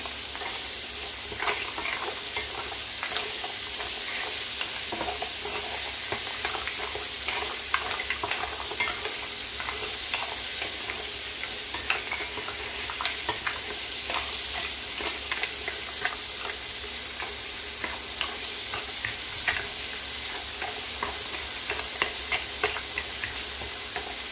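Fideuà ingredients stirred in a frying pan, a steady sizzle of frying with scraping and clinking from the spoon running through the whole stretch, close and even, with no voices.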